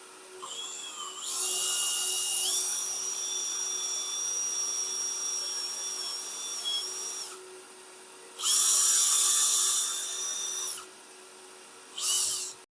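A power drill bores through a 1990s bathroom tub being converted into storage, with a long high whining run that dips in pitch as it bites, then a second strong burst and a brief final spin, close and loud, with no talk.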